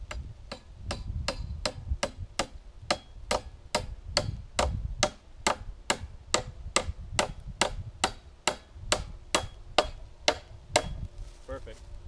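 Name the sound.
hammering in a stake for a squirrel trap set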